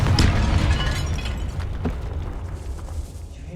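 A Confringo spell explosion in Hogwarts Legacy, a loud booming blast at the start that fades into a rumbling decay over a few seconds.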